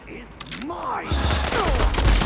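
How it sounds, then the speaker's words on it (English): Rapid gunfire from the Loverboy, a heavy revolver in the Phantom Fury video game, cracks out in quick bursts over dense game noise and a constant low rumble, with a faint voice in the mix. "the Loverboy, the big bad revolver, has an alternative fire that auto-aims for headshots"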